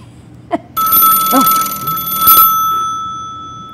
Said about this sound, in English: It'll ring on this phone.